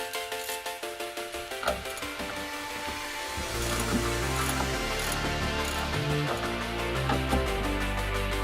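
A wrench removing suspension nuts on a BMW E36 during a coilover install, opening with rapid, regular ratchet clicks before a louder, denser whirring mechanical rattle takes over and continues to the end.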